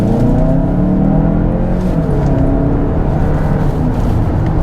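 A 2021 Hyundai Santa Fe Calligraphy SUV accelerates in sport mode, its engine droning loud and steady from inside the cabin with rising harmonic tones throughout.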